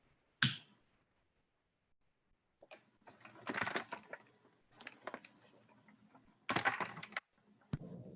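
Computer keyboard typing in scattered, uneven bursts of clicks with pauses between them, close and fairly quiet, preceded by a single sharp tap.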